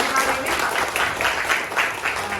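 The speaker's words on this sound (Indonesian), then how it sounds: "tepuk tangan dulu untuk kita semua untuk kali ini" Students in a classroom clapping together for a couple of seconds, a dense, fairly loud burst of applause at the end of a lesson.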